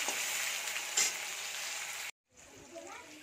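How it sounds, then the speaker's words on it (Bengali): Garlic cloves, chopped ginger and tomato fry in mustard oil with a steady, bright sizzle close by. The sizzle cuts out briefly near the end, then comes back softer with light stirring. "দিয়ে দিচ্ছি রসুন কোয়া, দিয়ে দিচ্ছি আদা কুচি, ভেজে নিচ্ছি সামান্য।"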